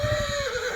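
A mare on a horse farm in Keshod lets out a single high, wavering whinny that slides gradually downward in pitch, close and fairly faint, with a few soft low thuds near the start.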